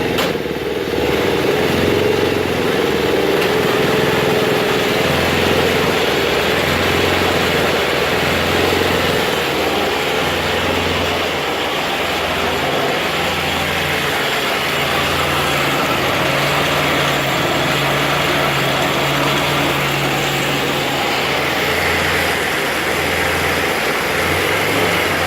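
A wood-gas-powered engine runs under throttle while driving, a loud steady drone with a low pulsing throb that holds throughout.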